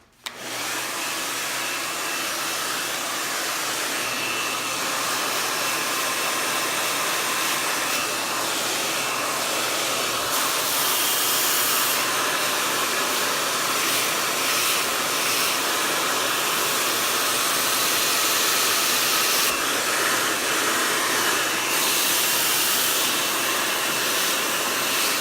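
A handheld hair dryer blowing on hair during a salon styling session, a loud, close, unbroken airy roar running throughout with only slight shifts in intensity as it moves, no voices.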